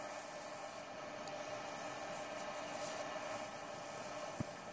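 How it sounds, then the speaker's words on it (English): Steady abrasive rubbing of 80-grit sandpaper against a maple burl and resin vase on a lathe, a continuous even hiss held at a constant level throughout with no talk. "Sanding starting at 80 grit"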